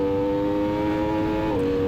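Race motorcycle at Road Atlanta trackday accelerating out of a turn, loud steady high-revving engine whine held close on-board, pitch dipping briefly near the end as a gear shifts.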